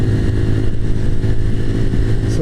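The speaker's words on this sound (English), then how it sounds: "The revs are definitely a bit lower at these speeds, which is good for the bike" A small 125cc motorcycle engine drones steadily while riding, loud and close, with a constant hum and rushing wind noise.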